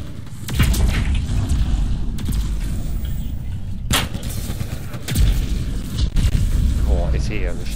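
Heavy explosions and booming gunfire from the video game Mass Effect Andromeda multiplayer, several loud bursts with sharp attacks and rumbling tails in quick succession, with players talking over the action.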